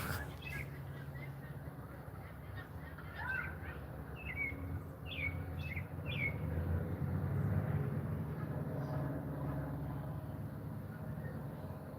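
Small birds chirp outdoors in a few short, thin calls over a steady low rumble that sounds like a distant aircraft or traffic.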